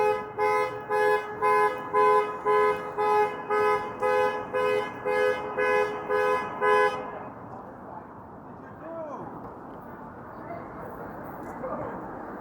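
A car alarm set off on a city street in Toronto on New Year's Eve blares in a loud, steady run of rhythmic honking pulses for about seven seconds, then cuts out, leaving street noise and distant voices.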